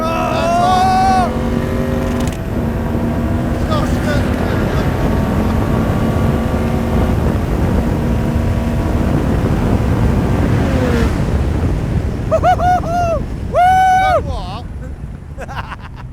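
A 525 hp Ariel Atom 4RR sports car on a test track, its engine a loud, sustained roar that swells under hard acceleration and climbs in pitch through the revs. Voices break in near the end as it drops away.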